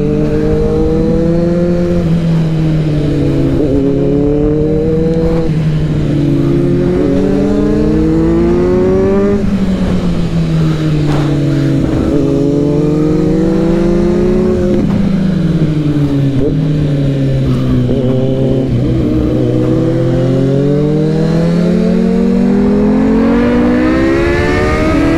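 A Kawasaki Z900 and a Suzuki GSX-S750 race each other, engines loud and close as they wail up and down through repeated rising and falling revs, with brief gear-change dips.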